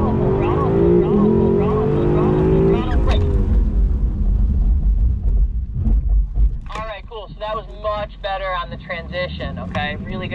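A Lexus car accelerates at full throttle on a wet track in pouring rain, its engine note climbing loudly for a few seconds before fading into rumble as people start talking.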